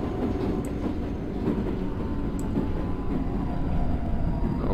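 A London Underground Northern Line refurbished 1995 Stock train runs in the Open.BVE simulator, with a steady rumbling roll, faint rail clatter and a couple of brief high squeaks, no talking.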